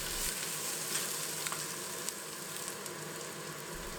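Mint and coriander leaves sauté in a pan for a mushroom biryani, a faint, even sizzling hiss with a few soft ticks and light pops.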